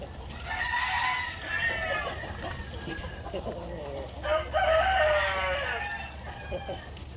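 Chickens cluck and a rooster crows twice, loud and close, over a steady low farmyard hum.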